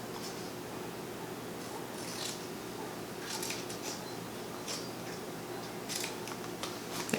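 Scissors snipping out a craft design for a kid-friendly Easter project, with soft repeated crisp cuts over a steady background hiss, close and quiet, no talking.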